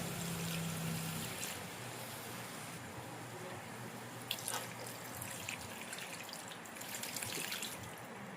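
Water is poured, trickling and splashing steadily for several seconds, close by, with a few louder drips.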